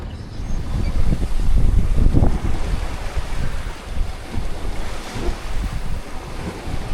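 Wind gusting and waves washing against a sailboat at sea, a steady broad rush that swells and eases, with no talking.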